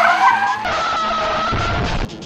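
Sustained tire screech from a car sliding through a handbrake turn in GRID racing, loud and continuous with a wavering pitch, cutting off abruptly near the end.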